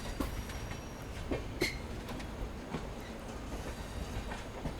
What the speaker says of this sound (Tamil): வண்டி திருச்சிக்குள்ளே என்ட்ரன்ஸ் ஆகிட்டு இருக்கு